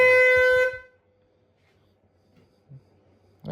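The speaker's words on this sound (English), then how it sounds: "How does it honk if it's off?" A loaner car's horn sounds while the vehicle is switched off, giving a single loud, steady blast of under a second, followed by near silence and a faint voice at the end.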